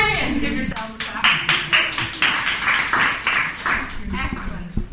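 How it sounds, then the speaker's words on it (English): A group in a community music session claps their hands in a quick series of sharp, fairly close bursts with a few brief pauses, as scattered speech carries over the top. "Give yourself a clap."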